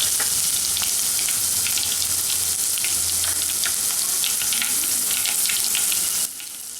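Crushed garlic and cumin sizzle in hot oil in a pan, a dense, bright, continuous crackle with scattered pops, close and loud, dropping quieter in the final moment.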